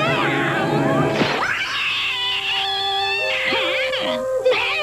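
Cartoon cat meowing and yowling in a 1980s Saturday morning cartoon, a series of loud, drawn-out wavering cries with a musical score underneath.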